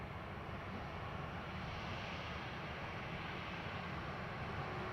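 A Ryanair airliner takes off from runway 10 right at Dublin Airport, a constant broad engine roar holding steady and loud throughout, with no voices.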